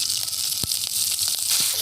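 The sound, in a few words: green chilies sizzling in hot oil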